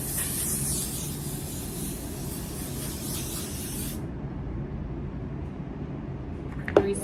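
Makeup setting spray misted from a bottle in one long, close hissing burst of about four seconds, then near quiet with a small click of handling.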